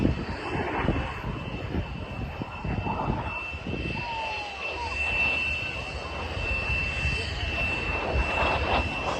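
Red Arrows jets roar past during a display at the Danish Airshow 2022, a broad sustained engine rumble throughout, with a commentator speaking over the noise.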